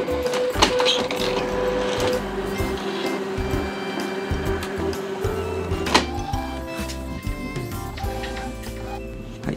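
A printer feeding an adhesive cleaning sheet through to clean its paper-feed rollers, with a steady loud mechanical whir and hum, rattles and clunks over nearly ten seconds, and no talking.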